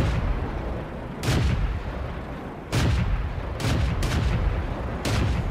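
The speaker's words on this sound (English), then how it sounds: "Chaos is calling another target, and we're all firing shots into it." Tank cannons fire in the video game World of Tanks, with several loud booming shots ringing out at uneven intervals over a steady background rumble.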